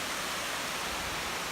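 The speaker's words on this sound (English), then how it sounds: "look at this waterfall" Steady broadband rush of a waterfall on a scenic hiking trail, continuous and fairly loud with an even, unbroken texture and no talk.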